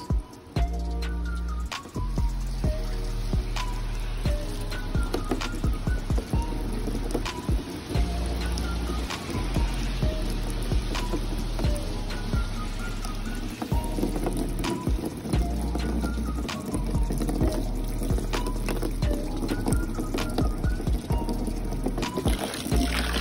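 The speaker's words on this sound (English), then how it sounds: "I'm filling it with some water to see how quick it drains." Water poured into the land portion of a Florida box turtle enclosure, a steady splashing, trickling pour close by that runs loud and continuous throughout with small irregular spatters.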